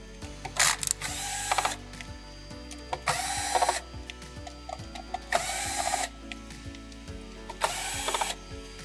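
Four screws are backed out of the DPS power board of a Sony XBR-55X930D 4K TV with a powered screwdriver: four distinct whirring, ratcheting bursts about two seconds apart, close and clear, with soft clicks between them and no talk.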